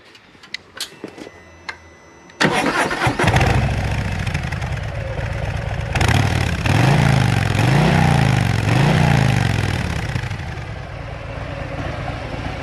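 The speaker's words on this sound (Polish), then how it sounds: "Brzmienie silnika jak to Harley, prawda? Odpalimy go. Posłuchacie sobie jak chodzi." A Harley-Davidson Breakout 114 motorcycle cranks over and fires at about two and a half seconds, then settles into a loud, close, lumpy idle. The rumble swells through a few short blips of the throttle before easing back, with no one speaking.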